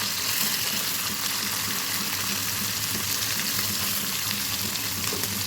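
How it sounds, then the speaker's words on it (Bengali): Fish fry in hot oil in a wok, giving a steady, close, even sizzling hiss with no voices over it. "মাছগুলি আমি ভেজে নিচ্ছি।"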